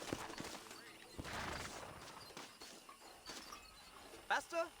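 Stagecoach horses' hooves clopping in the western video game Red Dead Redemption, a steady patter under game noise, with voices talking over it.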